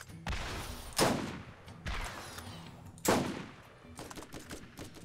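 Rocket launcher fire aimed at a turret in the video game Borderlands: two loud, sharp blasts with echoing tails, followed by a patter of smaller rapid shots, with no talk.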